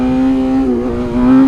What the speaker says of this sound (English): On this straightaway, I think I'm going to give a little wheelie attempt.